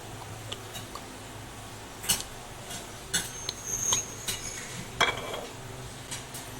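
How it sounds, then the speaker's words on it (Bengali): Topshe fish being mixed by hand with chilli, cumin and mustard oil in a bowl, heard as soft squishing and rubbing with a few sharp clinks of utensils against the dish, close and quiet, with no talking. "এখন সরিষার তেল দিয়ে মাখাবো।"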